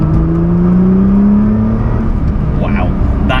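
Nissan GT-R R35 with 580 bhp accelerating hard on a B road, a steady loud engine drone rising in pitch from inside the car, with voices talking over it.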